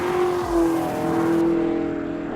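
A 650-horsepower 2018 Chevrolet Camaro ZL1 1LE engine accelerating hard, a loud, close, rising roar with strong harmonic tones building steadily over a couple of seconds.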